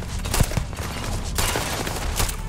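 Rifle fire in the space game Starfield: bursts of rapid, punchy shots and booming impacts that overlap in a dense, loud barrage with no pauses.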